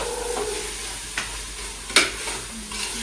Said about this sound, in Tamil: தக்காளி சேர்த்துட்டு வதக்கிக்கலாம். நல்லா வதங்கட்டும்.